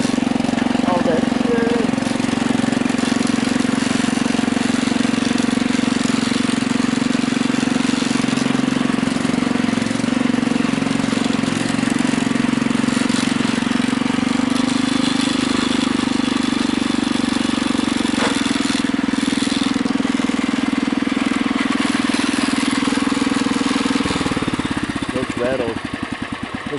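A Husky 600 engine runs steadily with rattles, a close, constant droning hum holding at an even pitch for nearly half a minute before easing slightly at the end.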